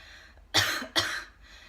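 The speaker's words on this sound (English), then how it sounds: "put your hands on your belly and do a little cough." Two short, forceful coughs close together, each a sharp burst, with quiet in between and nothing else around them.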